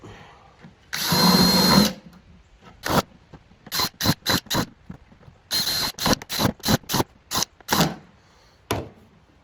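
A power drill whines in one long burst, then a string of short, rapid bursts as holes are bored into a plastic bucket, loud and close with no talking.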